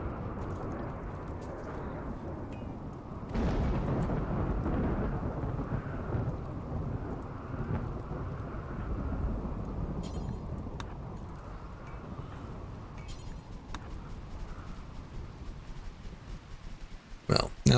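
Rain hisses steadily in the video game RimWorld, with a low roll of thunder setting in partway through and rumbling beneath the downpour before fading.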